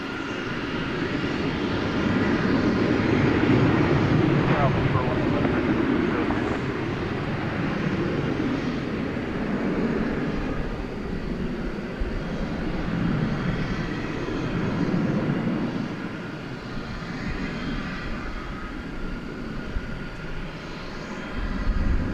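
An airliner taking off at DFW Airport at night, a loud sustained engine roar heard from a distance, swelling and slowly easing over about twenty seconds, with no voices.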